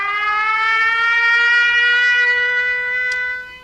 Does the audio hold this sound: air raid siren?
yes